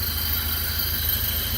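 A 1974 Alfa Romeo engine idling steadily at about 725 rpm, a low continuous rumble with a faint regular pulse and a constant hiss, close and unbroken with no talking.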